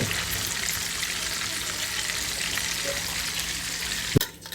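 Fish fry hisses and sizzles steadily in a hot pan after being turned, a dense crackling wash with no voices, ending in a sharp clack and a quieter tail.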